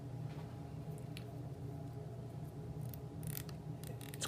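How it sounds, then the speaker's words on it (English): Small mechanical clicks from the adjustment knob of Shark Fin shears being turned during reassembly, a few faint, sparse ticks close by over a low steady background hum. "It's clicking, so I know it's right."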